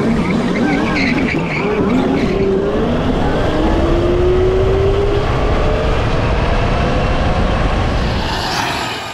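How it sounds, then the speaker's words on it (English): A 110V electric go kart launches into a burnout, its motor whine rising in pitch over a loud, sustained tire screech and skid that continue throughout. "Let me do like a little launch. It does burnouts at like 30 miles an hour."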